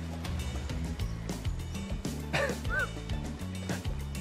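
Seagull squawks in the video game Hooked on You: a pair of short honking cries midway through, sitting over a busy looping backing tune, with no talking.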